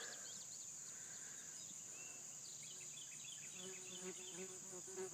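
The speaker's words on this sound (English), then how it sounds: "Nice bee here messing with me." A bee buzzing close by outdoors on an off-grid farm, a faint wavering drone over a steady shrill chorus of crickets and insects, with occasional distant birdsong.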